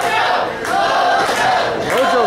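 Crowd at an independent wrestling event cheering and yelling loudly and continuously, a dense roar of many voices with shouts rising over it, close and full throughout.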